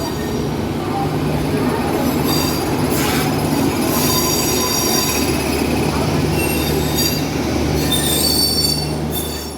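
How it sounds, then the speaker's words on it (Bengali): A down Bandel–Howrah local train pulls into platform 5 at Sheoraphuli station with loud, continuous wheel squeal and rumbling railcars for nearly ten seconds, and sharper shrieking screeches come through in bursts. "আর আমাদের ডাউন ব্যান্ডেল হাওড়া লোকাল প্রবেশ করছে শেওড়াফুলি স্টেশনের 5 নম্বর প্ল্যাটফর্মে।"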